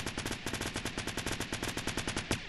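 Rapid, evenly spaced gunfire in Fortnite, a continuous run of sharp shots at a steady rhythm, moderately loud and close, with no talking over it.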